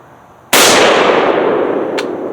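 A single loud shot from an FR-7 bolt-action rifle fired outdoors, a sharp crack that rings off into a long, rolling echo, followed by a faint metallic ping.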